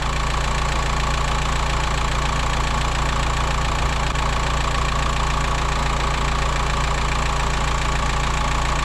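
A T5 engine idling during a chemical head gasket test, a loud, steady, close rumble that runs unbroken throughout.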